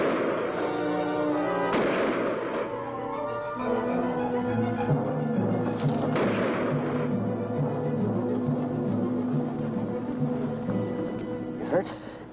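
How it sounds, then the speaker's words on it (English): Gunfire aimed over a creature's head in the 1958 horror film Night of the Blood Beast, heard as several sharp bursts within a tense soundtrack that carries music and shouting voices throughout. "Fire over its head!"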